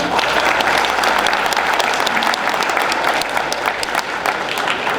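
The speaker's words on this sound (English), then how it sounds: "So students, please give your parents a round of applause" Students at a Rotary evening applaud their parents, a dense, loud and steady round of clapping from a large crowd, filling the whole stretch without pause.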